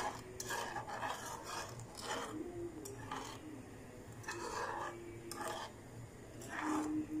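A spoon stirs hot milk tea made with pure milk in a cup, giving repeated scraping, clinking strokes in irregular bursts, fairly close and quiet, with no talking.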